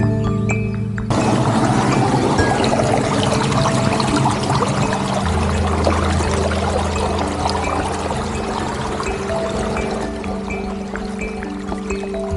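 Water pouring from the barrage at Pardi dam in Purulia, a loud, continuous rushing flow close by, steady throughout with no talk.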